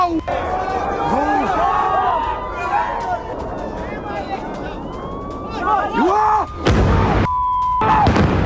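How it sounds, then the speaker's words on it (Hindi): Sirens wail and rise over a murmuring crowd, then a loud missile explosion bursts out twice near the end, sharp and broadband. "आप सुनिए जब ये धमाका हुआ मिसाइल का"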